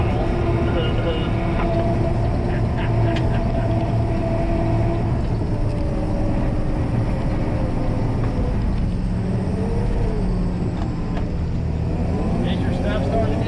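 A bulldozer with a new chain idles at half throttle during skidding work, a steady low diesel rumble with a faint mechanical drone holding throughout, while voices talk over it.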